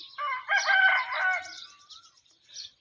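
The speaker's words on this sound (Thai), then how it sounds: "เสียงอันนั้นไก่มันขัน" A rooster on a farm crows once, loud and fairly near, a clear drawn-out call followed by a short faint trailing note, with no talking.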